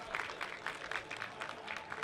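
Crowd applause and cheering at a Persona 4 Arena Ultimax esports tournament, celebrating the top eight players, a brief dense clatter of clapping at moderate distance.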